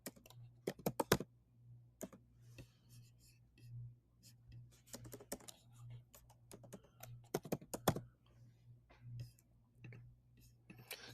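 Keys on a computer keyboard are tapped in short bursts and single clicks, quiet and close, with a low steady hum underneath and soft pauses between groups of keystrokes.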